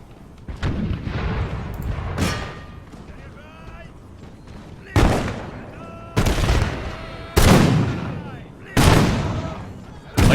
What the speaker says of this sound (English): I like that firing by ranks.